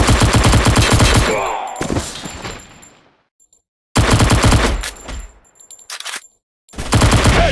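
Loud bursts of rapid automatic gunfire in the mobile shooter Encounter Strike, several long volleys broken by short silences, close and dominant with no talk.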